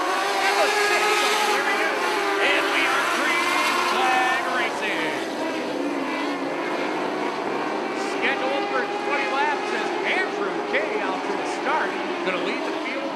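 Mini sprint race cars roar around the track in a steady, dense engine drone throughout, with an announcer talking over the continuous racing noise.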